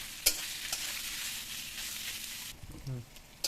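Onions frying in a pan, with a soft steady sizzle and a few stirring knocks, close but fairly quiet. The sizzle drops away near the end while a voice briefly speaks.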